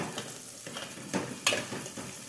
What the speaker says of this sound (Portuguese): Eu tô dourando aqui esse tempero, né?